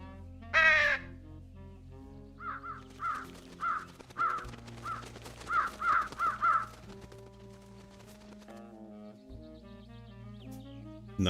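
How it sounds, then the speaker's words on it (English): Crows cawing in the video game Truberbrook after being called to a sycamore maple tree, a loud first caw followed by clusters of harsh repeated caws over soft background music. "We can call all the birds to the tree."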